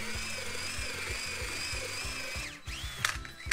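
Large power drill churning drywall joint compound in a bucket, a loud steady whine with rhythmic low thumps from the paddle, slowing and stopping near the end before a short restart.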